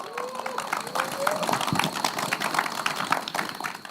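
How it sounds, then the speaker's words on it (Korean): Audience clapping for four professors at an outdoor moonlight talk concert, a fairly loud spread of hands clapping throughout, with voices and a brief tonal sound heard over it. "큰 박수 부탁드리겠습니다"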